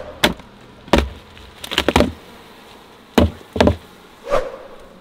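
Honey bees during a honey harvest, heard as several short, loud buzzing passes close by, spaced irregularly with sharp knock-like onsets and no speech.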